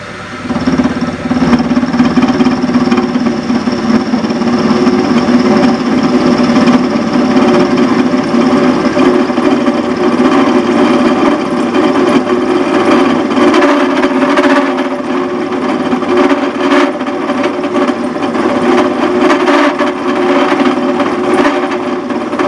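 A prototype lathe with a countershaft drive runs steadily while an oiled cut is fed in very slowly, giving a continuous close mechanical hum and whir with faint scraping throughout.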